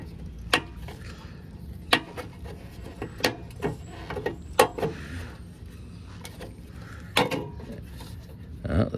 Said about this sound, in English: So what I just dropped were washers